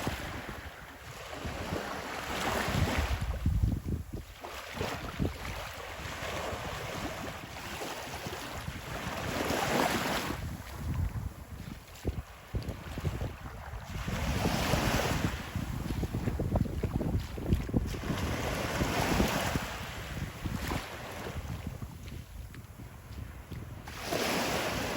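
Ocean waves roll and wash onto Fort Myers Beach after Hurricane Idalia while strong wind buffets the microphone. The surf swells and recedes in steady, layered surges, and no voices are heard.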